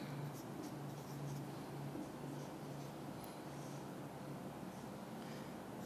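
A marker or chalk scratches across a board during a Class 9 computer lesson on flow charts, a faint continuous rasping of short strokes alongside a low steady hum.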